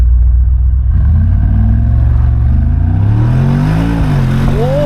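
A Mercedes G-Wagon Brabus 800 engine revs loud and close, its deep rumble rising and falling in pitch as the throttle builds, with no talking.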